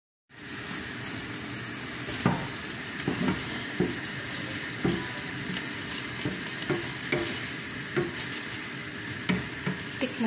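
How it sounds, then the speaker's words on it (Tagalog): Cooked ground beef stirred in a frying pan, a steady close sizzle with repeated soft scraping strokes and taps of the utensil every second or so, no one speaking. "ihalo ko na, guys. Kasi luto na yung karne."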